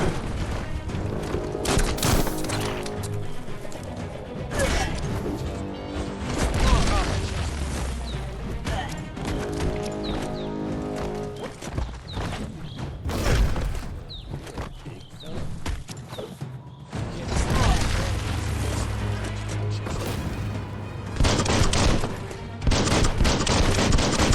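Heavy video game gunfire fills the scene, loud and nearly constant, with rapid bursts, crashes and booming impacts layered on top of each other and only brief lulls.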